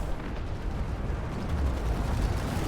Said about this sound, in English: Explosions on all fronts.